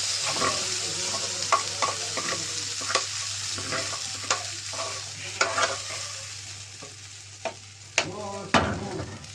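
Liver frying in oil, a steady loud sizzle with irregular stirring scrapes and clanks, a low constant hum underneath, no one speaking.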